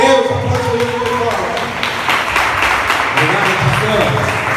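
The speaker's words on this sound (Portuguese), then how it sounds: "Aplaude o Senhor." Congregation applauding in a church service, a steady wash of clapping that fills the whole clip, with voices mixed in beneath.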